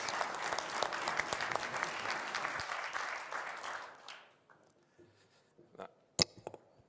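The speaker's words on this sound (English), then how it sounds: "Let's give him a round of applause, please." A room applauds the Prime Minister at a business forum on Romania joining the OECD, with a few seconds of brisk, steady clapping that stops abruptly, leaving near silence and a couple of isolated sharp knocks.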